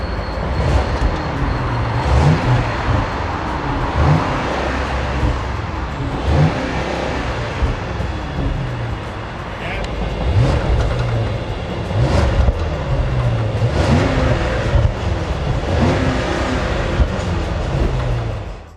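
A Range Rover with a V8 engine and its factory exhaust revs loud and close in a steady, sustained drone, rising and falling through several throttle blips, with no talk over it.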